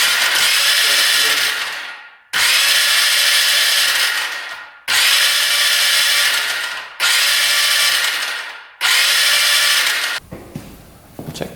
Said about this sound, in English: See what happens when I crank it over